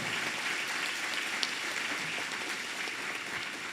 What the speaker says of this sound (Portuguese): a gente queria dar uma salva de palmas e dizer o nosso muito obrigado